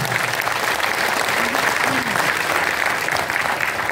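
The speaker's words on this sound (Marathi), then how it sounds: "अण्णांसाठी एकदा जोरदार टाळ्या झाल्या पाहिजेत." An audience at a Marathi theatre music event claps in a loud, dense, continuous ovation that holds steady throughout, with no talk over it.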